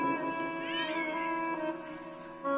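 During a Hindu scripture recitation, a human voice imitates kittens meowing with a thin, wavering, high-pitched mew that rises and falls, close and moderately loud, alone for nearly three seconds.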